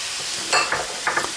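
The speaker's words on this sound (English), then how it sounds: "And I'm going to stir this up and let this saute for about 1 minute also." A pan of ingredients with red pepper flakes and oregano sizzles while being sautéed, with a steady frying hiss and a few soft scrapes and clinks of stirring.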